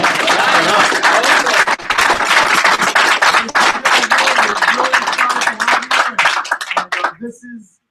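Office staff at a San Diego meeting clap loudly for new colleagues, a sharp, close round of applause with crisp individual claps that tapers off and stops, a voice calling out briefly over it.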